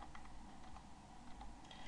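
Someone types on a computer keyboard while entering text into a spreadsheet cell: a faint, steady patter of soft clicks with no voices.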